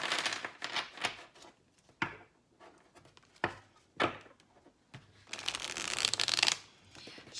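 Tarot of the Golden Wheel cards with US Game Systems cardstock being shuffled by hand, repeated riffling bursts of crisp card flutter separated by brief pauses, close and clear with no talk.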